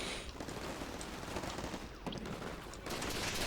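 Artillery fire in the war video game Combat Mission Shock Force 2 produces a dense, continuous roar of booming blasts and crackling gunfire layered together, loud and unbroken throughout.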